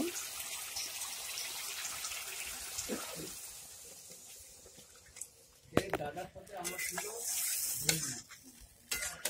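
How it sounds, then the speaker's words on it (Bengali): Water poured into a pot of koi fish curry with winter cauliflower in a home kitchen, a soft running splash and stirring with a sizzle, growing louder toward the end amid clatter. "এখন জল দিয়ে দিব।"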